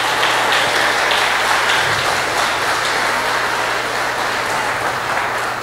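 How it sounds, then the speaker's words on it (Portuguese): A church audience bursts into sustained applause, loud and close, a thick unbroken wash of clapping with a low steady hum underneath throughout. "Você pode dar uma salva de palmas para o Senhor?"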